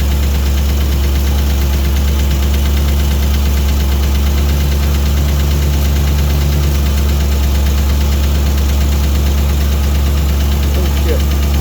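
A Chevy C10 pickup's engine idles steadily while the overheating truck smokes, producing a loud, constant low rumble with a faint knock throughout; a voice is briefly present.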